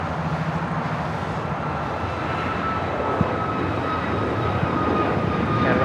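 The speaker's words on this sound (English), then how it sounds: "This is Air Canada 555 taking off to Vancouver on a MAX 8" An Air Canada Boeing 737 MAX 8 roars on takeoff, a loud sustained jet engine rumble with a faint whine holding steady throughout, heard from outside the airport.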